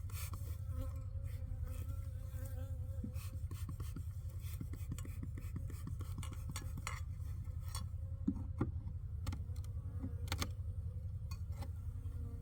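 A colony of honey bees in a fire-damaged hive drones with a dense, steady close-up buzz, individual bees zipping past the microphone, with faint scraping and handling noises of hive frames mixed in.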